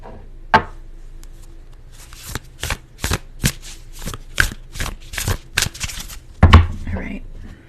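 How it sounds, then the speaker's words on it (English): Tarot cards are shuffled up close in a rapid series of crisp riffling bursts, with a few soft knocks and handling sounds around them. "So I'm going to shuffle some cards here for pile 1 and pile 2"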